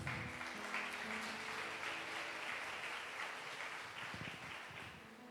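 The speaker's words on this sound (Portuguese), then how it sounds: "Vamos aplaudir Jesus." A church congregation applauds during a sermon, a broad, even wash of many hands clapping that holds steady and slowly fades, with no talking over it.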